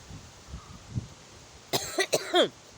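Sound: coughing

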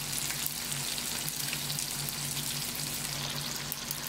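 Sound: salmon pan frying in olive oil

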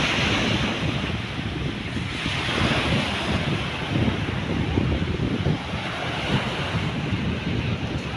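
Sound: large waves crashing at Manila Bay during a typhoon

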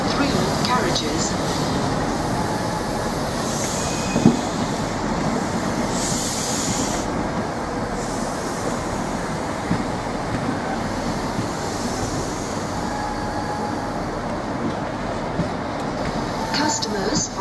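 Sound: train at London Marylebone station

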